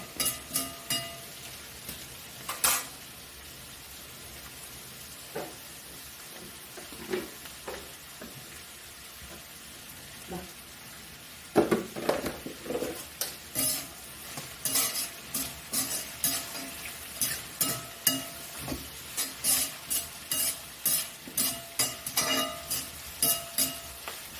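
Clam meat stir-fried dry with a little salt in a hot pan: a continuous frying hiss with scattered scrapes and clinks, becoming a busy, rhythmic run of spatula strokes in the second half.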